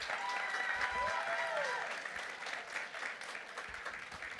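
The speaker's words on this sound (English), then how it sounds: "Mr. Mesa, let's give him a round of applause." An audience at an elementary school award ceremony claps in a steady, sustained round of applause that fills the room, with a voice speaking briefly over it near the start.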